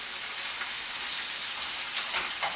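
Shrimp and scallops frying in a pan, giving a steady, close, broadband sizzle with a few brief louder spits.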